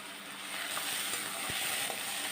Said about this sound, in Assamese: এইখিনিও মিডিয়াম ফ্লেমতে মই 5 মিনিটমান ভালকৈ ভাজি ল'ম।